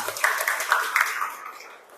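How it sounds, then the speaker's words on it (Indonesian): A classroom group claps together in a short burst of scattered applause, moderately loud and fading out over two seconds. "Tepuk tangan untuk kita semua."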